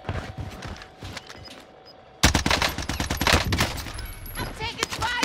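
Gunfire in the video game Warzone, a quieter opening of footsteps and movement before sudden loud bursts of rapid automatic shots crowd the second half.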